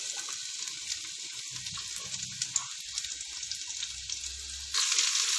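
Onions sizzling in a pan for vegetable pulao make a soft, steady hiss with light crackles and a few stirring scrapes, growing brighter and louder near the end.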